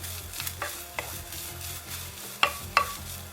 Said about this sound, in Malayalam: ഒരു 4 ചെറിയ ഉള്ളി നടുവേ ചീത്തിയത്, ഒരു 3 കണ്ട് കറിവേപ്പില, ഇത്ര ഇട്ടിട്ട് നമുക്കിതൊരു മീഡിയം ഫ്ലെയിമിലിട്ടിട്ട് ഒന്ന് നന്നായിട്ട് മൂപ്പിച്ചെടുക്കണം